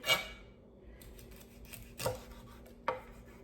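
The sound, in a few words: cutting mackerel into small pieces with a knife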